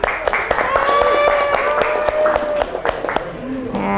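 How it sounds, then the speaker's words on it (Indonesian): Classroom students clapping for the quiz winners, a brisk crowd of claps mixed with children's voices and chatter, fairly loud and close, with a sustained tone running through the middle. "Ya, tepuk tangan dong."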